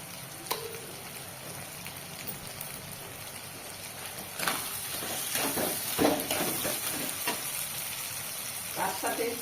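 Oil sizzles steadily in a pan during home cooking of an eggplant dish, a continuous crackling hiss with occasional stirring scrapes and clinks growing louder midway.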